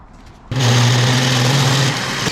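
A power drill bores into a broken captured nut on a Honda CR-V during rear trailing arm work, starting abruptly after a moment of quiet and holding a loud, steady whine close by.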